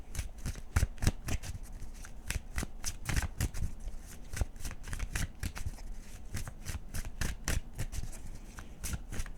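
Tarot cards are shuffled by hand in a continuous series of crisp riffling flutters and soft slaps, close and fairly loud, repeating in quick uneven bursts throughout.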